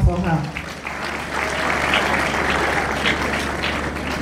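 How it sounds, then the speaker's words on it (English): A lecture hall audience at a university inaugural lecture breaks into applause, a broad sustained clapping that carries on steadily from start to finish, with a brief voice at the very start. "Please, another round of applause for her."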